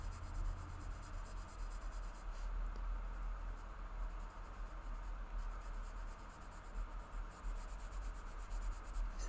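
Koh-I-Noor Polycolor colored pencils scratching and rubbing on paper while coloring, a faint, close, continuous soft scraping texture with small rhythmic strokes, heard alone.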